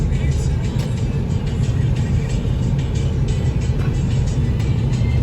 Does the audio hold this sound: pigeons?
no